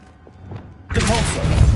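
A Lumos spell cast in Hogwarts Legacy: a quiet lead-in, then a sudden full, shimmering magical swell with a low rumble that holds steady to the end.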